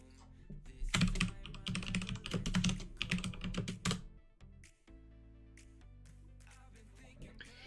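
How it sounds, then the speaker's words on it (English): Computer keyboard typing during a live flight simulator stream: a quick flurry of close, loud key clacks for a few seconds, then sparse scattered taps over quiet background music. "I do apologize if you guys heard my keyboard during the intro music"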